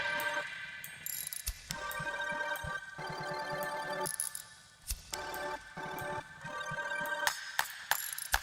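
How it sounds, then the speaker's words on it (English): Rapid ratcheting clicks, like a socket wrench being cranked, run in bursts through a music track, sitting over tonal, layered sounds with sharp metallic hits in between. "Is that a socket wrench?"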